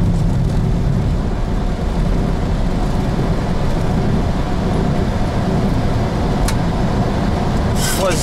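An airliner taking off from Kyiv Boryspil Airport fills the cockpit with a loud, steady broadband roar of engines and rolling that holds unbroken throughout.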